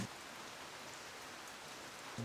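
Rain pours outside a Sprinter van, a soft, even hiss heard faintly from inside, steady and unbroken, with a brief low hum at the start and end.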